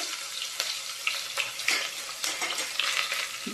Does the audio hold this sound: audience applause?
no